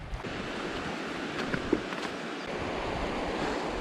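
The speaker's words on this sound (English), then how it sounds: "You guys see all those springs pouring in?" Mountain springs pouring into a high mountain river, a continuous close wash of rushing water with wind buffeting the microphone, no voices.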